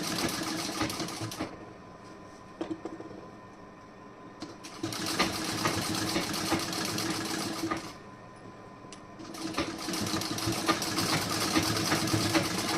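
A sewing machine stitches a seam on the reverse side of fabric in three steady runs, separated by short pauses, each a dense close mechanical whir with rapid needle clatter.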